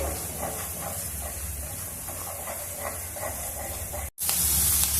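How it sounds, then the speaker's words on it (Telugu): Fenugreek seeds frying in a pan, giving a steady, close sizzling hiss that carries on without pause, then cuts out briefly before returning louder. "మెంతుల్ని ఉడికించుకోండి ఇట్లా వేయించుకుంటేనే మంచి స్మెల్ ఉంటుంది"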